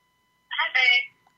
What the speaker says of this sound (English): Our guest is calling me on my phone.